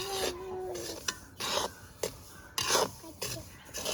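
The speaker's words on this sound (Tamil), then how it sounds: "இப்படி வறுக்கையில் சரண்டு சத்தம் கேட்கணும் சட்டியில்." Dry semolina (rava) roasting in a pan, stirred in bursts of raspy, scraping strokes separated by brief pauses, close and fairly loud.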